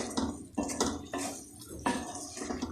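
Spices and marinade for smoky chicken tikka boti being mixed in a bowl with a spoon, giving wet squelching strokes and light clinks in an irregular rhythm, close and fairly quiet.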